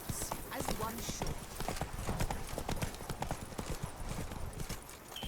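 Roach, a horse in The Witcher 3, runs with rapid, steady clip-clop hoofbeats close by, continuing throughout under near-constant talk, with a brief whinny at the end.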